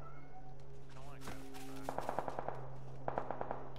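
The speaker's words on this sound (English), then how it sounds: "I'm getting hit at. Shots. Yeah, someone just hit me." Gunfire in the video game PUBG: two rapid bursts of automatic shots, each a quick string of sharp cracks, stand out close and loud over a steady low in-game background hum.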